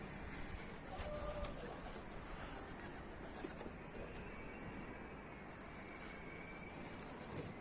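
Mardin pigeons cooing softly around their coop, a faint, steady murmur of low coos with a few distant bird calls over quiet background noise, no talk.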